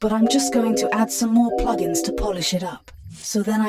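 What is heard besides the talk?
No distinct noise like a dog, phone or traffic.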